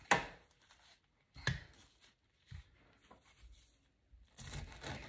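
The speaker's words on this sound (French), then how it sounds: "nous allons couper notre ananas en petits morceaux" A knife chopping pineapple into small pieces on a board, a few sharp separate cuts with pauses between, then a quicker cluster of chops at the end, close and fairly quiet.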